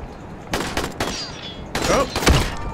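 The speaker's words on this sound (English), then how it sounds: "Gunshots!" Gunshots in the video game Dying Light: a few separate bursts of rapid gunfire, sharp and clustered in short volleys, with a brief pause between groups.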